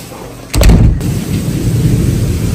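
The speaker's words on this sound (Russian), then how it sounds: "У нас такой гром." A sudden loud crack of thunder bursts out, then a deep rumble rolls on steadily with a rain-like hiss underneath.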